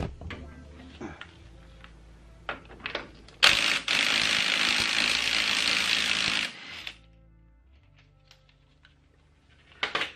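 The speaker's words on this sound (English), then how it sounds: "So now I'm gonna try to use the impact wrench." An impact wrench works on a Toyota 2JZ engine in a garage, giving a loud, steady rattling buzz that lasts about three seconds. Quieter clicks and shop noise come before and after it.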